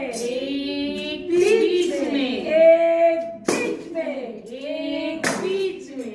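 A few sharp claps from a teacher working with a child with special needs, sounding as isolated close slaps between stretches of adult and child speech.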